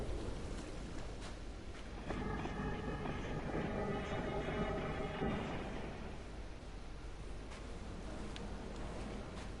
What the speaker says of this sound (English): I heard a train. a metro or something.